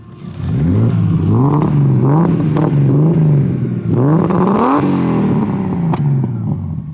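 A car's freshly built engine revs repeatedly, rising and falling in pitch with loud, rough throttle blips close by, sounding in need of tuning.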